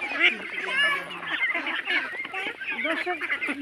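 A flock of around 400 ducks on a farm, with young birds among them, sets up a loud, dense chorus of overlapping quacks and honks close by, continuing without pause.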